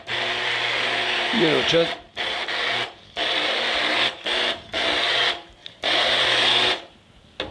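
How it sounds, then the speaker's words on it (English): A blender or food processor puree of black bean soup runs in several loud, steady whirring bursts broken by short pauses, with brief talk in between. "a couple of cups of this in the food processor or blender"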